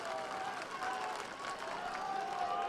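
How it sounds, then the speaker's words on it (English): Crowd at a high school baseball state championship game clapping steadily as spectators rise to their feet, a dense, continuous wash of applause at moderate distance with faint voices mixed in. "All members of the Pirate ship rising up to their feet right now. Cascading claps."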